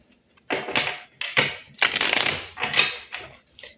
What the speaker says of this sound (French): On va aller tirer 4 cartes de tarot pour voir les énergies générales